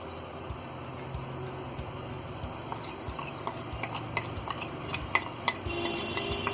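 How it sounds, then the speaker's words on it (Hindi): Spoon clinking and scraping against a bowl while chicken fry ingredients are mixed, with soft irregular taps that grow sharper and more frequent toward the end over a low background hum. "यहाँ हमने ये सारी चीजों को अच्छी तरह मिक्स कर दिया है।"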